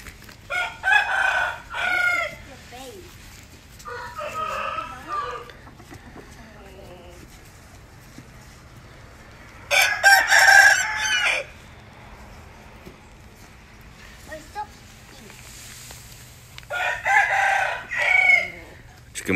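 Chickens and a rooster on a farm cluck and crow in several loud bursts of a second or two each, separated by quieter stretches with faint background talk.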